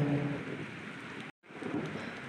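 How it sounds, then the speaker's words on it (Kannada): Heavy rain pours steadily with wind in a dense, continuous hiss, broken by one brief moment of silence. "ಬೀಸೋ ಗಾಳಿ ಜೊತೆ ಸುರಿಯುವ ಈ ಮಳೆ"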